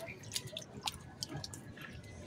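Wet potting medium for flytrap replanting squeezed underwater in a container, giving faint scattered drips, squishes and small sloshing bubbles, quiet and close with no voice.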